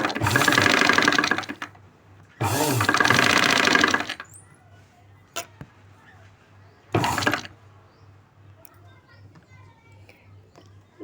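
Two long bursts of a sewing machine stitching a boat-neck blouse, then a shorter third run, separated by quiet gaps with faint clicks and a low hum.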